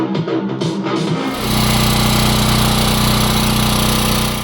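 A Champion 3.6 kW hybrid petrol generator starts up and settles into a loud, steady running drone at maximum load, with a constant mechanical hum, close by and continuous.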